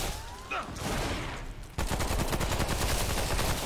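Rapid bursts of gunfire from a shooter video game, Remnant: From The Ashes, in a swamp boss fight, first scattered and then a dense, loud, continuous volley with no talk over it.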